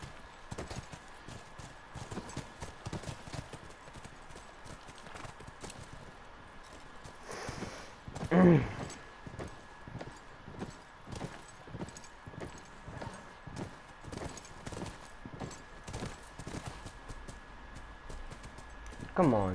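Steady clip-clop of horse hooves trotting in a continuous rhythm in The Last of Us video game, with a loud burst partway through and a brief whinny-like sound.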